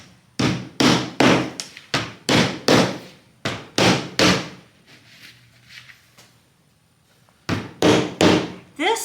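A series of firm knocks from a rubber mallet on a circle cutter, about ten in quick succession, a pause, then four more taps.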